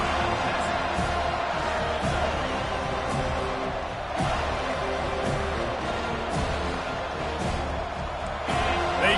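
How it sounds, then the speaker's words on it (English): Football stadium crowd roaring steadily throughout, a loud sustained wash of cheering with occasional sharper swells, a commentator's voice faintly mixed in. "They challenge this crowd to bring the energy, and I'd say they're doing that."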